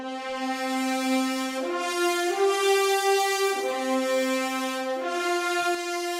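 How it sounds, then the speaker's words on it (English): Sampled orchestral horns from the Jaeger library, six and twelve horns layered, play a sustained brassy line of long held notes that step between pitches every second or two, loud and full with no talk. "So that is Jaeger 6 horns and 12 horns."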